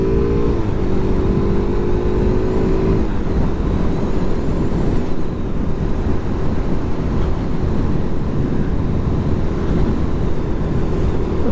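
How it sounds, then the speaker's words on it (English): Suzuki DRZ-400SM motorcycle on its standard exhaust, ridden along country roads: a steady, close engine drone with a low thump beneath heavy wind buffeting on the microphone, no voices. "I don't know if you can hear the standard exhaust. It doesn't sound, you know, it's not too noisy, but there's a wee bit of a thump off it."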